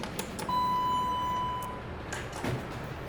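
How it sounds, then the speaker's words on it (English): A loud door operator on a small Westinghouse hydraulic elevator modernized by Thyssenkrupp, with an electronic door sensor. A steady electronic chime sounds for about a second, followed by a short burst of rumbling, sliding door movement at close range. "Kind of a loud door operator, but electronic door sensor."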